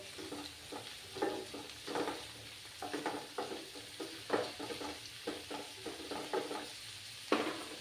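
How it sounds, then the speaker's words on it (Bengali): Radish frying in a pan over low heat for a spicy jhal, a continuous gentle sizzle broken by repeated scraping stirs of a spatula, close and without voices. "চুলোর আঁচটাকে কমিয়ে তারপর এটাকে 5 মিনিটের মতো ভালো করে ভেজে নিতে হবে মূলোটাকে"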